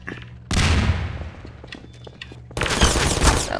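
Gunfire in the video game Riot Act: a loud burst of rapid shots begins suddenly, fades into scattered pops, then a second dense volley erupts near the end.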